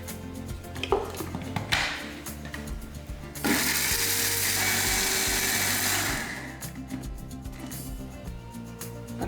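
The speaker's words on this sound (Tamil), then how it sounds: "மறுபடியும் மிக்ஸி ஜாரில் போட்டு பவுடர் பண்ணிடலாம்" A mixer grinder jar pulverises a puliyodharai spice mix into powder, heard as a loud, continuous whirring grind for a few seconds, framed by clattering and knocking of the jar before and after, with no speech.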